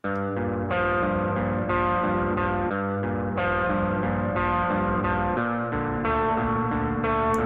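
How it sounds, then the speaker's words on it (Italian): Sustained synthesized tones played in GarageBand with heavy reverb applied, chords changing in a steady rhythm and each note washing into a long, echoing tail. "Questo è il riverbero."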